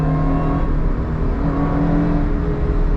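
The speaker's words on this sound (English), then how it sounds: "let me just quiet so you can hear this supercharged whine" A supercharged Subaru Vivio RX-R kei car drives under load, a loud, continuous engine drone with a steady whirring supercharger whine layered over it, no speech.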